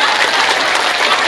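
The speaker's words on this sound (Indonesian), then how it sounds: "Tepuk tangan dulu." Crowd at a community religious talk in Kroya, Indramayu, breaks into loud, sustained applause, a thick even wash of many hands clapping for over a second with no speech on top.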